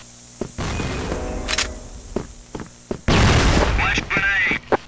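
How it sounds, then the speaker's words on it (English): A grenade blast in a first-person shooter video game: a loud, sudden burst of noise that rumbles and fades, surrounded by in-game gunfire and shouted voice lines. "grenade! Fire in the hole!"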